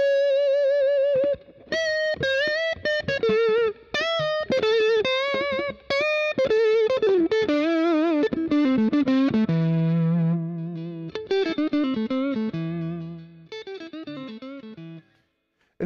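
A Fender Custom Shop Masterbuilt Eric Clapton Stratocaster electric guitar, TBX tone control fully up, plays a distorted lead line of sustained, bent notes and quick runs, loud and bright, with short pauses between phrases.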